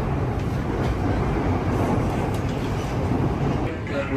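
Steady low rumble and rattle of a moving KRL CLI 125 series commuter train on the Bogor line, heard from inside the carriage as constant dense running noise, with a few faint clicks.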